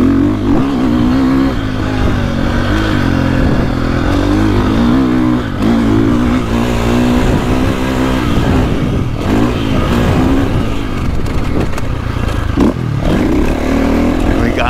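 A Honda CRF450R or KTM 450SXF Factory Edition dirt bike ridden fast through a choppy high-speed section, its engine roaring loud and close with revs rising and falling continuously.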